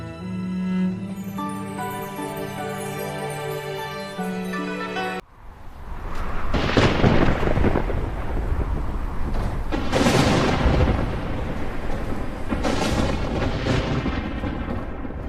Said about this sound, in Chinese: 总是打雷下雨，这样的鬼天气，可真是让人造的